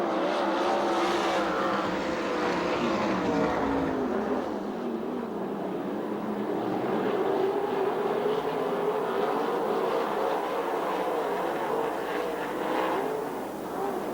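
USAC/CRA sprint cars roar around the dirt oval at Perris in a steady, loud, continuous engine drone, several cars blending and rising and falling in pitch as they race past.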